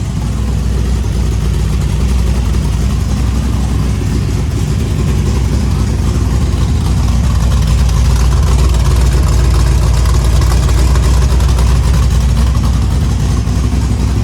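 A Pure Stock race car engine runs continuously, loud and throaty with no exhaust leaks, a dense rumbling roar that holds steady throughout with no voices.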